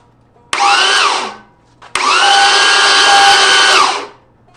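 A Chevy 350 small-block V8 cranks over on the starter without spark. There are two loud whirring bursts, a short one and then a longer one of about two seconds, separated by a pause, with no firing.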